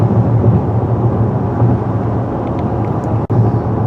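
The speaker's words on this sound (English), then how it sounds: "those tires thumping and groaning" Steady tire roar and low thumping from a 2016 Ford Explorer Platinum 4x4 cruising on an expressway, a constant close rumble filling the cabin with one brief dip near the end.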